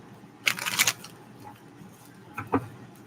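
Tarot cards shuffled close by, one crisp riffling burst followed by softer taps and a brief second flick, otherwise quiet with no talking.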